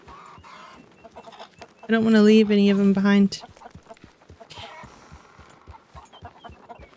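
A chicken gives a loud, close, drawn-out squawking cluck lasting over a second, set against steady clip-clop footsteps, with a person talking before and after.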